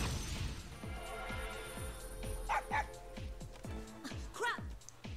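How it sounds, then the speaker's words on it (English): Koromaru the dog from the fighting game Persona 4 Arena Ultimax gives a few sharp barks, mid-distance, over a steady pulsing game soundtrack with talk running underneath. "Koromaru's sharp bark brings me to my senses"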